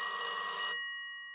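Telephone ringing indoors, a single bright electronic ring that cuts off, followed by a brief pause and the start of another ring.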